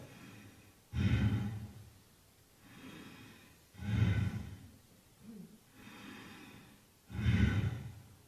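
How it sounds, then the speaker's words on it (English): Slow nasal breathing exercise, in through the nose and out through the nose: three strong, close breaths rise and fall about three seconds apart, with softer airy breaths between them and no talking. "So the root breath is in through the nose, out through the nose."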